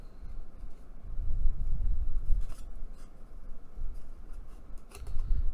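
Scissors snipping through paper while cutting out small two-inch paper flowers, a steady run of close, soft crisp cuts and rustling with brief pauses between strokes.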